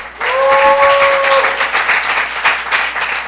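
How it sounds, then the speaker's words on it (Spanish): A church audience breaks into applause at a religious academy session, a dense, loud wash of clapping that carries through the clip with some voices mixed in. "¿Qué tal si le damos un fuerte aplauso al Señor?"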